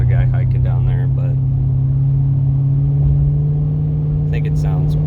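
A 2007 Ford Crown Victoria P71 police interceptor pulls away from a full stop, its exhaust giving a steady, loud, deep rumble with a mid-range engine drone throughout, recorded close by, with someone talking over it.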